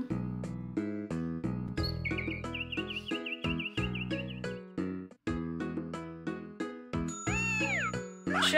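Game-style cat meows from a cat in Harvest Moon: Tale of Two Towns on 3DS, a few short chirpy meows rising over a tinkling, plucked background music loop with chimes.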